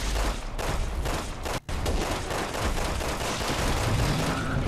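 Sustained heavy turret gunfire in Resident Evil 6, a dense, loud, continuous burst of rapid shots with a single brief break, no voices over it.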